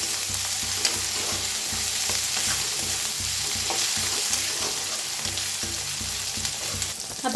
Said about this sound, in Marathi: तर भाजून घेऊया 1 मिनिटभर असंच भाजायचं,